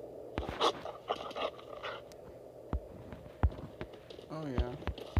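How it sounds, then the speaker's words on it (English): A dog pants in the LifeAfter video game, quick breathy bursts coming and going amid scattered footstep-like thuds, with a person talking over parts of it. "comfort the dog."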